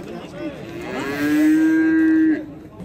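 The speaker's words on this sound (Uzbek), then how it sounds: "Mana katta sigir." A cow at a livestock market gives one long, loud moo, close by, rising and holding steady before trailing off, with faint background noise.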